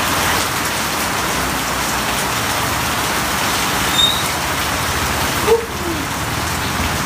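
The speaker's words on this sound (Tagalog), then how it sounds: "Lakas ang ulan." Heavy rain pours steadily in a dense, hissing wash, loud and unbroken, with a couple of faint brief sounds rising above it.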